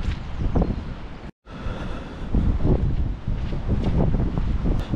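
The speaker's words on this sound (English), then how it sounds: "I swear, it's gotten mad windy." Strong wind buffeting the microphone in heavy rumbling gusts outdoors in Stenhousemuir, with a momentary cutout early on before the blustery roar returns louder.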